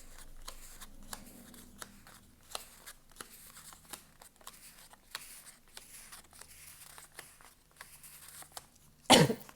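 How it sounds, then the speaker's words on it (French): A woman coughs repeatedly in a quiet room, with short dry coughs spread through the stretch and a louder burst near the end. "Je tousse encore, c'est infernal."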